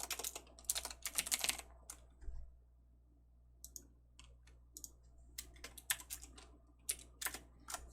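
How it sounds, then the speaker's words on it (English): Typing on a computer keyboard during live game development work, with bursts of rapid key clicks separated by pauses, close and fairly quiet over a low steady hum. "as long as I can type it correctly, of course."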